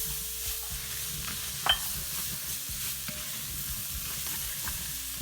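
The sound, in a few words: garlic and chopped onion frying in a pan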